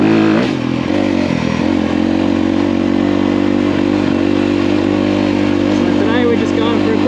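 A 2023 Honda CRF250R dirt bike engine droning steadily while riding out on tracks, a loud, close, continuous motor hum with slight clattering, and someone talking over it.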